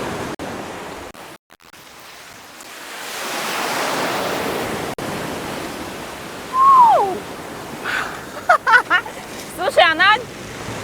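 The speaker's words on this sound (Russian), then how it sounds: "Здесь обычно очень сильный прибой" Surf breaking on the beach at Praia Formosa, Madeira, a broad steady wash of waves rolling in, with brief voices and bird-like chirps cutting in near the end.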